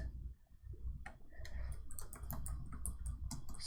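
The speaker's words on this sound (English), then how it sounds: "So let's type this in," Rapid clicking of keys on a computer keyboard, a busy close run of typing strokes that starts after a second of quiet room tone, with no talk.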